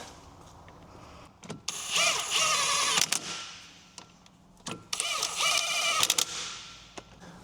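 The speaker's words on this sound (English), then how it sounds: "check the power wrench on the lowest setting" Pneumatic impact wrench on its lowest setting, driving wheel nuts during a front wheel bearing job on a 2002 Jeep Liberty: two loud rattling bursts of a second or so each, separated by quieter workshop noise.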